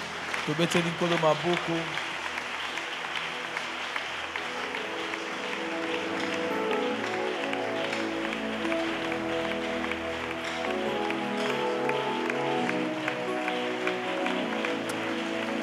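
A church congregation keeps up sustained applause in acclaim of Jesus, dense and continuous, with music and voices running underneath throughout.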